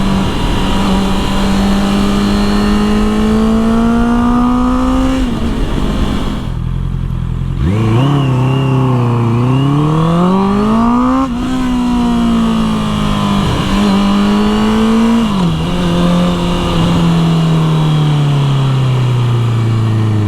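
A Honda CBR650R motorcycle fitted with an Akrapovic exhaust revs loudly and close by, its engine note climbing and falling through several sharp throttle blips with a brief dip in the middle, and no voices.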